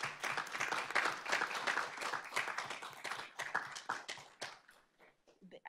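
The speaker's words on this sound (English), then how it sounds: "so that we can give them a round of applause for all of the hard work that they did" Applause from a small audience at a Board of Trustees meeting, a brisk burst of clapping that thins out into a few scattered claps at the end, fairly quiet and close.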